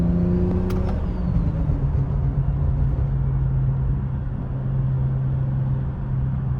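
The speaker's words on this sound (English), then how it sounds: "Let y'all hear what this lovely turbo sound like." BMW 540i with a large turbo holding a steady loud idle-to-mid rev drone with faint turbo whine, a brief blip near the start then an even sustained engine hum throughout, no talking.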